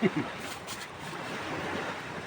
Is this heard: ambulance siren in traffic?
no